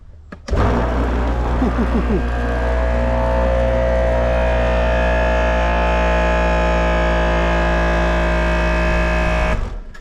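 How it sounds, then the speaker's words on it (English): A steady electric pressure washer motor whine and pump drone starts abruptly, holds at a constant loud level for several seconds, then cuts off. "This is about the same amount of noise that I hear from typical electric pressure"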